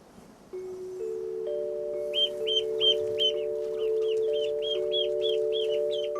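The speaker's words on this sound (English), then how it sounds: "There's better news in the poultry hut, where the chicks have hatched." Chickens and newly hatched chicks in a poultry hut on a Victorian-style farm, repeated high peeping calls in a quick regular series over steady tonal background hum, close and clear, no talking.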